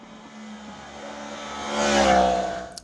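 A 998cc crossplane CP4 engine on a 2022 Yamaha MT-10 revs up close, its loud, rising note swelling to a peak near the end before dropping off suddenly.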